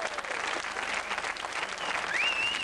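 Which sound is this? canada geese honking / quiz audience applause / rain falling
quiz audience applause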